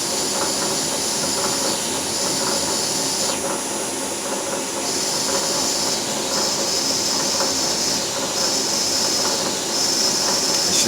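A CNC machine spot drills parts for a 1845C skid steer, giving off a loud, steady whir and hiss with a thin high whine held throughout, and no voices.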